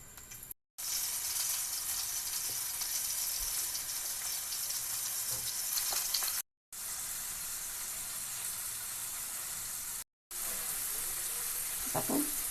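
Marinated prawns (kolambi) frying in oil in a pan, a steady faint sizzle and crackle running continuously with a few brief cuts to silence, no talking.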